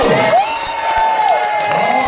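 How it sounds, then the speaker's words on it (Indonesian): Elementary school pupils and teachers in a televised school quiz competition audience cheer and shout loudly in a sustained roar, with a tonal sweep riding over the crowd noise. "boleh Kak Gio dengar lagi semangat dan tepuk tangan dari kita semua teman-teman dan Bapak Ibu guru"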